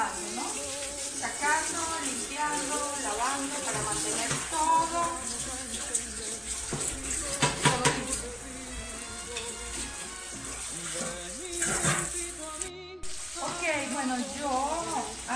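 Floured pork ribs dropped into a hot pan sizzle and crackle, with a steady frying hiss under intermittent talking and a few louder spatters.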